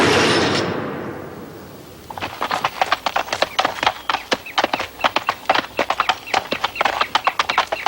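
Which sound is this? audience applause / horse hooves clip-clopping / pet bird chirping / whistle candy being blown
horse hooves clip-clopping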